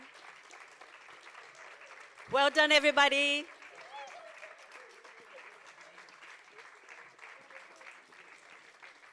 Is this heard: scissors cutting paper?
no